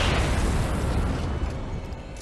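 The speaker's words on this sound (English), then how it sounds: "Big explosions." A loud, rumbling explosion in the video game Alan Wake fills the clip, a deep booming roar that slowly fades, with no talking.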